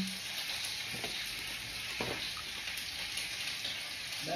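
Salted steak sizzling in a hot pan, a steady crackling fry with occasional louder pops and spits throughout, close and continuous.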